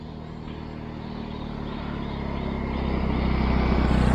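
A steady mechanical whir with a low hum from an MJX Bugs 18 Pro quadcopter drone flying in fairly strong wind, slowly growing louder toward the end, no voices.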